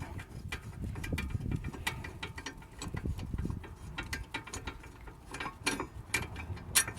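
A ratchet wrench loosening bolts on the front brakes of a Volvo S60, S80, XC70 or V70, with rapid clicking pawl bursts and metallic handling sounds close by and fairly quiet.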